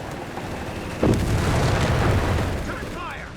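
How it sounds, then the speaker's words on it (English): Artillery in the World War II strategy game Company of Heroes 3 lands with a sudden booming impact followed by a rumbling, crackling tail lasting a couple of seconds, mixed with game effects. "Artillery fire there."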